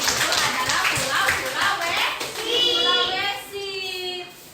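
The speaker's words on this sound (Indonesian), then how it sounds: "Tepuk tangan untuk Danin" Schoolchildren in a classroom clap for a pupil, a short burst of quick rhythmic clapping with children's voices mixed in, followed by chatter and talk as the clapping fades.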